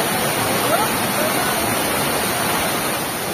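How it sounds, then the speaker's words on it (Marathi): A small roadside waterfall in the Konkan rushes in a steady, loud, unbroken wash of falling water close by. "कसा जबरदस्त रोडच्या साईडलाच आहे हा वॉटरफॉल"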